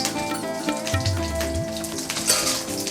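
Two green chilies splutter in hot oil for a potato curry, a close, busy crackle of popping and sizzling that runs throughout.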